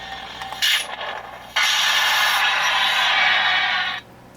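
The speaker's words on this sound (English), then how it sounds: "I love that ignition sound." A Final Fantasy sound font lightsaber on a pixel katana with a white Infinity Blade ignites with a sharp crackling surge, then holds a loud, steady buzzing hum for a few seconds before cutting off.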